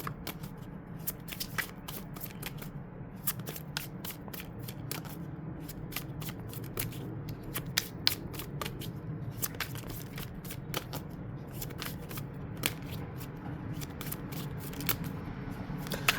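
Tarot cards being shuffled by hand, close and quiet, with repeated crisp riffling bursts and soft card slaps at irregular intervals over a faint background hum, with no talking.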